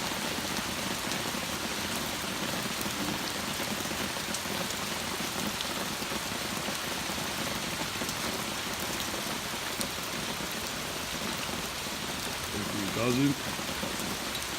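Heavy torrential rain keeps up a constant, dense hiss of drops drumming on nearby surfaces, with a brief louder splash or bump near the end and no talking.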